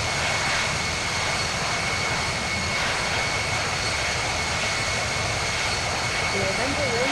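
Boeing 787 jet engines at takeoff thrust in the Infinite Flight simulator, giving a steady, loud, broadband roar with a high whine held throughout.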